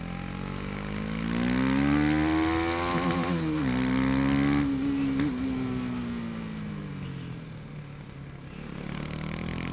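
A KTM Duke 250 motorcycle is ridden up close, its engine tone rising and falling with throttle through a clear harmonic buzz, and it roars loudest midway before settling back.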